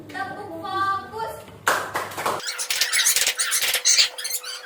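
A classroom does the rhythmic 'tepuk fokus' focus clap, a burst of many hands clapping in quick patterned beats after a short stretch of other sound, loud and close.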